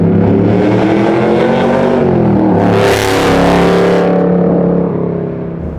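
A 1967 Camaro pro touring build with a 700 hp LT4 V8 revs hard under acceleration up to about 5,000 rpm, a loud, close, sustained engine roar that rises and holds, with a brief harsher surge midway and no talking over it.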